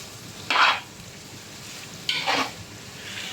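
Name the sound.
stirring thick curd into beef biryani mixture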